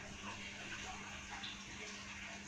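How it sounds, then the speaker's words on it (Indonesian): A steady stream of hot, just-boiled liquid pours and splashes continuously at close range over a marmer kojo cake, an even wash of sound with no voices. "Lalu ini akan aku siram di atasnya."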